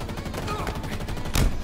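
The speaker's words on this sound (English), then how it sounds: "I'm getting shot in the back." Gunfire from Halo Infinite, a steady run of muffled shots with one louder burst near the end; a voice can be heard faintly in places.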